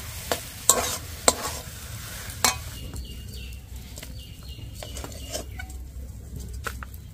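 Vegetable chop potato filling stirred and dried in a kadai, with a few sharp spatula scrapes and knocks against the metal early on over a low steady background, then quieter scraping.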